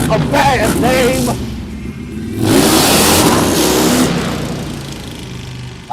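A motor vehicle, apparently a motorcycle, passes by outdoors, its engine swelling loud mid-clip and then fading, with people talking over it at the start.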